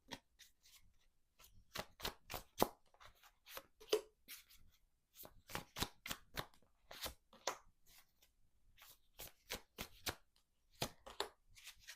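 Tarot cards are shuffled and drawn during a quiet reading, giving close, crisp riffles and slaps in short clustered bursts separated by brief pauses, soft but distinct, with no talking over them.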